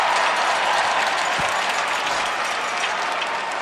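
Dense, steady crowd cheering and applause fills a stadium at a 1994 Syracuse vs Loyola college lacrosse game, a loud continuous roar with no break across the stretch.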